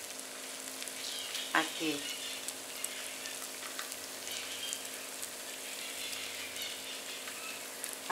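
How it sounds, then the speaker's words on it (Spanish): Salvadoran yuca tangles fry in hot oil with a steady, close sizzle and crackle throughout, while a voice speaks briefly over it. "tiene que estar bien caliente el aceite para poner los enredos"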